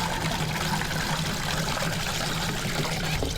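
Water dripping and trickling from wet curtains during room cleaning, a steady close patter that runs without a break.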